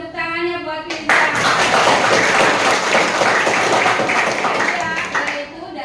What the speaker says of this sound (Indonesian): Tepuk tangannya buat Firja.